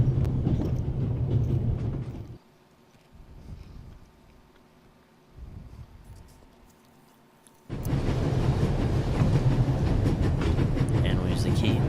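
A train rolls along in the game The Raven, a loud steady rumble of wheels and carriage that drops away to a quiet interior for several seconds, with someone talking, then returns at full strength.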